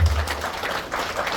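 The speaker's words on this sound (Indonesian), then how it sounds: "Tepuk tangan untuk buat kita semua." An audience in a hall in Surabaya gives a short burst of clapping, dense and fairly loud, with a low thump at the very start.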